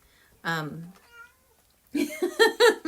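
A cat meows clearly and close by, one drawn-out call standing alone in a quiet room, followed a moment later by a burst of quick, rising meows or caterwauling.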